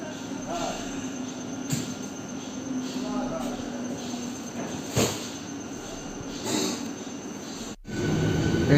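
A passenger train pulls away from a station in the small hours on the Mecheda to Bauria line, wheels rumbling with brief squeals and clanks over a steady roll, insects faintly audible in the night.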